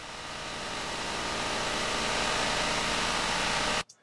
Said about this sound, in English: So now we have this sort of machine starting up.